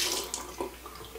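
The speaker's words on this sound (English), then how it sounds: "Underneath, we connected our water lines and we turned our water on." Water runs from a newly installed Delta single-handle bathroom faucet into the sink, a close, bright splashing stream with a few small gurgles and shifts in flow.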